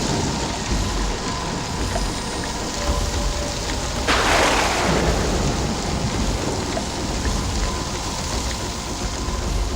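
Steady heavy rain hisses throughout a horror audio story, with a sudden thunder crack bursting out midway before the downpour settles back to a constant roar.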